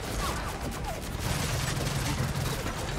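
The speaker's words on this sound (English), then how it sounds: "This guy has like some sort of a machine gun." Rapid machine gun fire in the Gears of War 4 video game, a dense continuous rattle of shots mixed with crashing combat noise, loud and sustained throughout.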